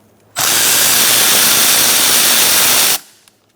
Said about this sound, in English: I'm going to take out this bolt here